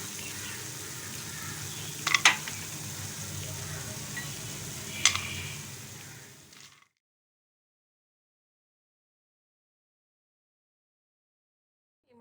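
Dry fruits frying in a kadhai for makhana laddu give a soft, steady sizzle with a couple of sharp ticks, then the sound cuts off into silence partway through.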